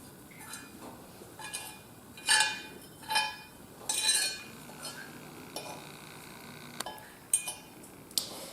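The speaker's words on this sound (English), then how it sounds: "So just test the meat with a fork and sort of break it up to see if it's done yet." A fork breaking up cooked squab on a dish, a series of light metallic clinks and taps against the plate, some sharper and louder, spread out over quiet moments.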